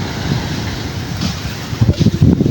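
Gusty wind buffets the microphone over rushing ocean waves, growing rougher and louder toward the end, with no one talking.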